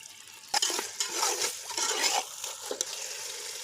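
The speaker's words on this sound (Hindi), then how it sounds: "हमारा कीमा ऐसा ऐसा इसके अंदर भून रहा है, पानी हमारा खुश्क हो रहा है" Minced meat (keema) sizzles as it fries in a pan, with repeated scraping stirs of a spoon against the metal and soft clinks between strokes.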